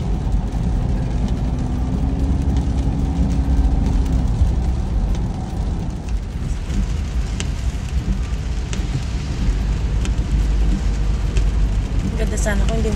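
Rain falling during a family car trip to Vigan, Ilocos Sur, a steady patter and hiss over a low engine hum, with people talking inside the car at times.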